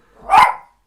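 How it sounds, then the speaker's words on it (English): One loud, close dog bark rings out alone in a quiet room, a single punchy woof that swells and fades within half a second. "Sorry for my dog"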